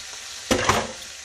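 Diced tomatoes dropped into a hot frying pan set off a sudden burst of sizzle and splatter that quickly settles back to a softer fry.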